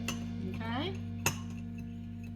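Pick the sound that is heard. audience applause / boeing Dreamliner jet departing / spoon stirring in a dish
spoon stirring in a dish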